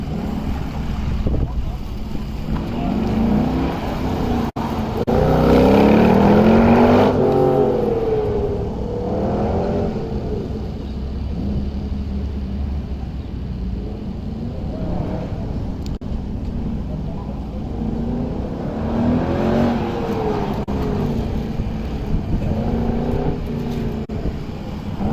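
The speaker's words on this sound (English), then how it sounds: "There's a couple of cars running through." Autocross cars at an SCCA event run through the cone course, their engines rising and falling at a steady distance, with a louder pass near the middle. Someone talks over the engine noise throughout.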